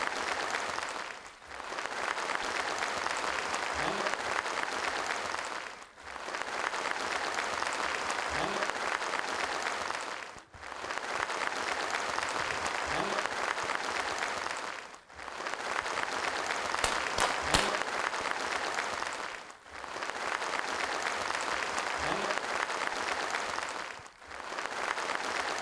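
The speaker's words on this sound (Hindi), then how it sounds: "जोरदार तालियों की उम्मीद है दोस्तों। खड़े होकर स्वागत करें इस शख्स के लिए।" A large audience at an award ceremony gives sustained, dense applause, a roaring wash of clapping that swells in long stretches separated by brief dips, with no speech.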